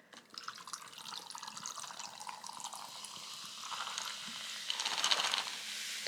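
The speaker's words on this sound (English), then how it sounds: "we are having our sparkling water as always" Lime-flavored Kirkland sparkling water poured into a glass, a close, quiet fizzing and splashing that builds gradually with small bubbly crackles, no one speaking.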